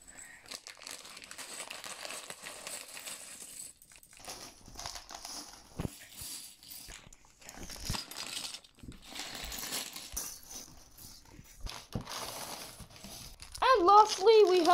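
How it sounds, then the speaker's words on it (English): Small plastic bags of mini LEGO pieces crinkle and rustle as they are torn open, with light clicks of loose bricks scattered through, near and fairly soft. "so let's start opening up the bags now"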